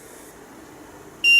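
An EMF meter, its reading climbing into the red, lets out a loud steady electronic beep after a quiet stretch of low room noise, with no one talking.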